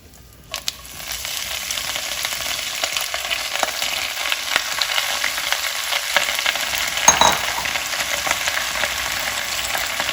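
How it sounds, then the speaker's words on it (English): Green chilies and washed gongura leaves sizzle steadily in hot oil as they are sauteed for a chutney, a close, continuous frying hiss with occasional stirring scrapes and no talk. "Now we're just going to saute these green leaves."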